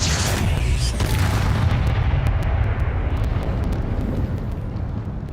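The Incendio fire spell bursts out in the Hogwarts Legacy video game as a loud, rumbling, fiery blast that fades into a roaring, crackling tail over several seconds.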